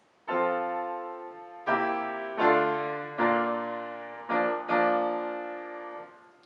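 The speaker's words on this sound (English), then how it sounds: "connecting the different notes and chords on the piano without using your pedal" Piano chords played without the sustain pedal, six struck chords in a slow steady sequence, each ringing and fading smoothly into the next, no voices.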